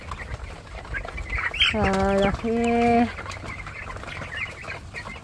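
Young chickens, about 45 days old, give two drawn-out clucking calls close by, with quiet farmyard background and faint talk.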